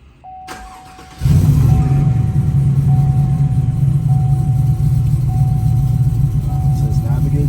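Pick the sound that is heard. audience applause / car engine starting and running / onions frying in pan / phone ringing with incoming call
car engine starting and running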